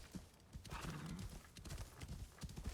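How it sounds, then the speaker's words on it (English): A horse in the video game Assassin's Creed Shadows gallops with quick clip-clop hoofbeats and lets out a neigh, moderately close and without talk. "God, the horse movement is horrible."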